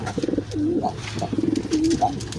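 Racing homing pigeons cooing inside their loft, several close, clear rolling coos in quick succession with soft background rustle.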